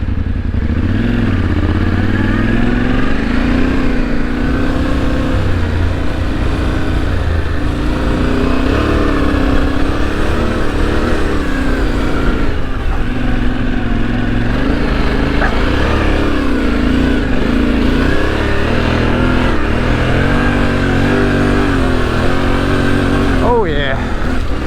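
A 2025 Yamaha Tenere 700 is ridden on sand on a large sand island. The engine drones loudly and continuously close to the microphone, with a wavering pitch as the throttle rises and falls and wind rushing underneath.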